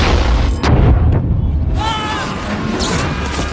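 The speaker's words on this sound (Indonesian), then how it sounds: "3 bom yang sebelumnya dipasang oleh Gray tiba-tiba meledak" Heavy booming blasts with crashing and rumbling, a continuous loud chaotic din of explosions and debris.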